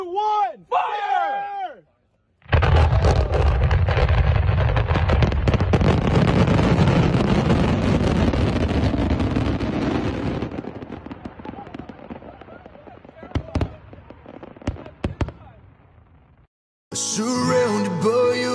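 A mass launch of 4,000 fireworks fired all at once bursts into a loud, dense roar of crackling and popping that runs for about thirteen seconds before thinning into scattered late bangs, with excited shouting just before it starts.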